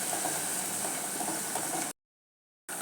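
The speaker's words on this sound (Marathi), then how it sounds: "आणि हा मसाला अगदी तेलात चांगला भाजायचा, म्हणजे याला तेल सुटेपर्यंत मसाला व्यवस्थित भाजून घ्यायचा आहे" Masala spice paste roasts in oil for Kolhapuri misal, a steady close sizzling hiss that stops abruptly, then returns after a short silence.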